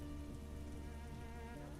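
Rain falling steadily, a dense even patter of raindrops on a surface, close and continuous throughout the brief stretch, with no voices.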